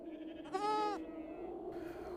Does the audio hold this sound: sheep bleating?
yes